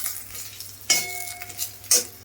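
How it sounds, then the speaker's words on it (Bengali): Dried red chillies fry in oil in a wok with a soft sizzle, broken by two sharp bursts of a utensil stirring and scraping the pan. "শুকনো লঙ্কা একটু ভাজা ভাজা করে নেব"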